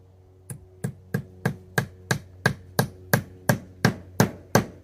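Steady hammer blows on a nail while building a high tunnel greenhouse, about a dozen evenly spaced strikes ringing close and clear, with no talking.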